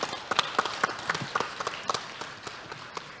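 Audience applause at a Korean children's forum, greeting the next speaker: a moderate, fairly sparse burst of claps with distinct individual hits, heard from within a hall.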